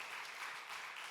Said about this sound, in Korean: 박수를 좀 손이 있는 대로 다 치겠습니다